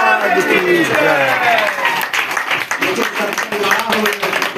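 An audience claps together at the close of a satsang, a dense burst of hand claps that thins and fades, loud and near, with voices mixed in underneath.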